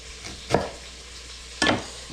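Two separate knife chops through an onion, a rough chop with the knife tip, each a short crisp strike with a quiet pause between them.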